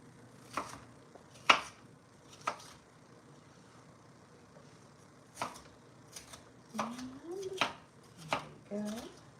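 Peppers being chopped into large, thick chunks for a blackened tilapia skillet, with a series of sharp knife strikes on a cutting board, scattered and irregular, close and moderately loud, with faint voice-like sounds in places.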